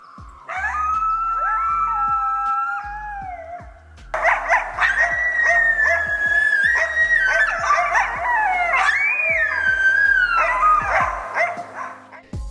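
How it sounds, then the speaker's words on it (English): Coyotes call for their pack at sunset in a city park, a chorus of high-pitched yelps and wavering howls rising and overlapping, loud and close, pausing briefly before a second burst of yips and howls. "You'll usually start hearing coyotes call for their pack around sunset with a distinct high-pitched yelping and howling."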